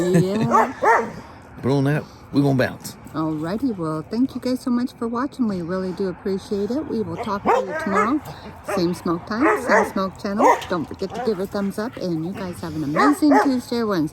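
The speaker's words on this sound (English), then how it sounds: "Sorry about the dogs." Dogs barking repeatedly in yips and bow-wows close by, nearly continuous through a person talking over them at the end of a motorcycle workshop chat.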